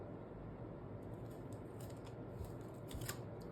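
Scissors snipping through material during lunch bag making, a few quiet, close cuts over a faint steady background with no talk.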